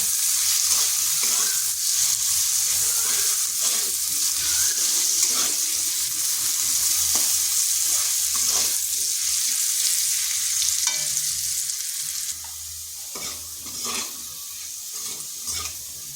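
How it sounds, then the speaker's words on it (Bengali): Steady sizzling of potatoes frying in oil, with occasional stirring and scraping clatter, continuous and fairly loud, easing slightly toward the end. "আলুটাকে হালকা একটু ভেজে নেব।"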